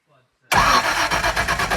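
A car engine cranks and fires on a cold start after a new ignition coil is fitted, kicking in abruptly with a loud, rough, pulsing run that continues steadily close by.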